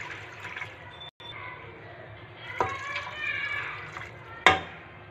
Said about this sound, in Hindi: 2 कप हम इसमें पानी ऐड करेंगे।